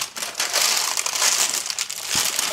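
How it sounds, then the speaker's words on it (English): Parchment paper being crumpled and squished down into a baking pan for brownies, a loud, close, continuous crinkling and crackling. "Just squish it down in the pan."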